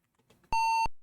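A single sharp computer beep from a DOS shareware game, a steady tone lasting about a third of a second, close and clear after faint clicks.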